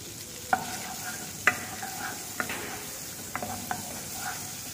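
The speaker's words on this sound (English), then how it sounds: "So now the butter is getting a melt, so now the timing is adding for garlic." Garlic frying in melted butter for a cream of Dubarry soup, a faint steady sizzle with several sharp clinks and scrapes of a utensil stirring the pan, no talk.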